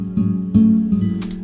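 A short phrase from an Omnisphere software guitar, a few plucked, sustained tones with low harmonics and a soft bright flourish near the end, played alone.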